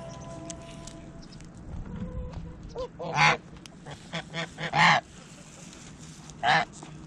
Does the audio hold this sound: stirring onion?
no